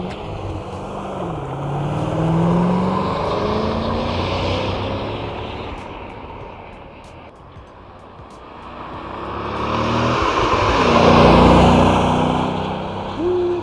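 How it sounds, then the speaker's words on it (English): A 2007 Chevrolet Corvette drives past outdoors, its engine note swelling as it nears, dropping away, then building again in a second loud approach before fading. "Man, that car moves."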